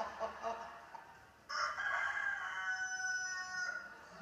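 A rooster from Vermezzo crows loudly and close by in a long, drawn-out call that starts partway through and holds to the end, over some earlier background noise.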